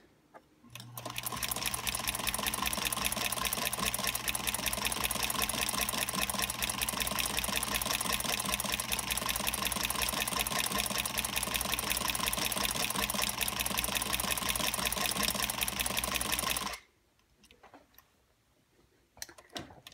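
A sewing machine fitted with a ZigZagger attachment stitches fabric in a loud, fast, steady mechanical whir for about sixteen seconds, then stops abruptly, leaving faint handling noises.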